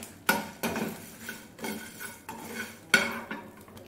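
Roasted dried chillies and salt are scraped and tipped from a pan into a dry vessel, giving a handful of separate metallic clanks and rattling scrapes spaced a second or so apart, close up and without speech.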